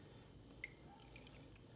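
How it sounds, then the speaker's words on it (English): Dye-soaked shibori fabric drips onto a rack, a single clear drop standing out briefly over a low, steady background hiss of water. "Notice it's really not dripping a lot. It's dripping some, but not a lot."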